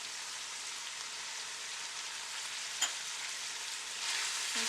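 Pork belly fries in a pan with Korean hot pepper soybean paste and red pepper flakes for kimchi jjigae, a soft, even sizzle with a single faint clink midway and no talking.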